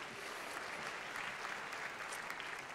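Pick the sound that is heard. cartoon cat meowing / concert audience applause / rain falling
concert audience applause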